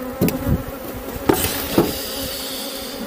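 Honey bees hum around a small six-frame nucleus hive during the making of an artificial swarm, a close, continuous buzz with a few knocks against the wooden box.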